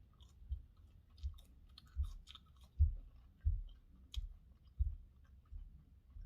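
French fries dipped in Heinz spicy ketchup are chewed close to the mic, giving soft, rhythmic mouth crunches about every half second in an otherwise quiet room.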